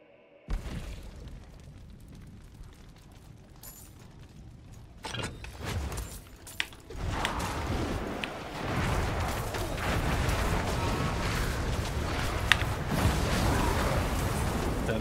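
Explosions in the video game Diablo 4 during Hardcore Sorcerer Firebrand play: a few sharp bursts early, then a dense, continuous roar of blasts and crackling building up and sustaining loudly to the end.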